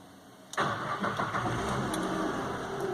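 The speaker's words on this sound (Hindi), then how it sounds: "इंजन ऑन कर दिया मैंने, आवाज आ रही होगी" A car engine cranks and catches after half a second of quiet, then settles into a steady, close idle for the rest of the clip, with no talking.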